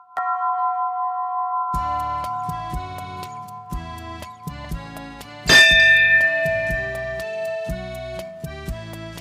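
A temple bell is struck repeatedly in a quick, uneven rhythm, each clang ringing out. One louder strike rings longer midway through.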